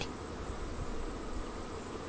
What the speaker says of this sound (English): These bees are still working up and sealing those uh, joints between the flow frames.